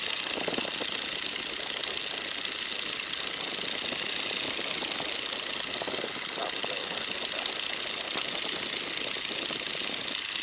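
A light aircraft engine pulled back to an economical 1,750 RPM in level cruise flight drones steadily and continuously throughout, a loud broadband cabin hum with no voices heard.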